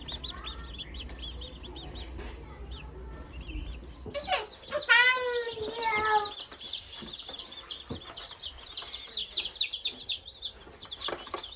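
A flock of baby chicks cheeps and peeps in a chorus of overlapping high calls, loudest in the middle, with brief soft clucks and light rustling around them.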